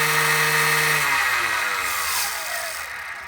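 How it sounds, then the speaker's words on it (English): A skateboard electric motor fitted to a DIY NSU Quickly moped whines as it spins up, a rising electric tone sweeping upward in pitch over a few seconds before settling into a high, steady hum. "If I switch this on, so there's the motor there, and it just speeds up,"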